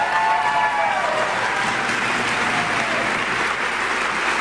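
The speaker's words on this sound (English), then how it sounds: "Walter and the Tea Party movement deserves an applause as well." A crowd at a Tea Party political rally applauds, with dense, steady clapping filling the whole stretch at an even, moderate level.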